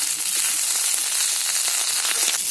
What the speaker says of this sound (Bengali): পেঁয়াজের ক্যাপসিকামটাকে খুব ভালো করে ভাজা ভাজা করে নিতে হবে